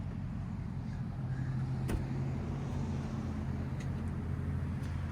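A 1998 Chevy 1500 with a 5.7L V8 and Flowmaster Super 10 exhaust pulling away, its deep, steady exhaust rumble holding throughout with a brief sharp knock partway in.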